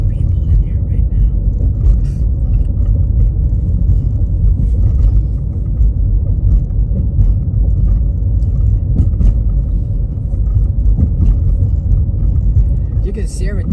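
A car driving along a Kansas road from Russell toward Hays, heard from inside as a constant low rumble of engine and tyres, steady and loud throughout, with someone talking over it.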